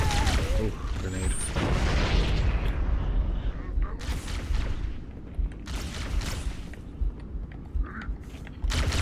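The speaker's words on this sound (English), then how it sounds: "Oh, grenade." Grenade blast in Halo: CE Anniversary's Library level, a loud booming burst amid dense gunfire and combat noise, with someone talking over the action.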